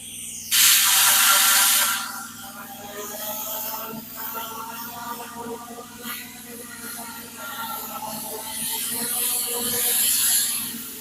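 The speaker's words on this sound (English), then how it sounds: "Okay, yeah, the compressor runs." An air compressor in a workshop starts with a loud hissing burst of air, then settles into a steady mechanical hum and rattle that continues throughout.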